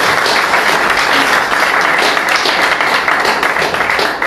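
A church congregation applauds the Lord with loud, dense, continuous clapping that fills the room evenly for the whole stretch, close and steady without pause.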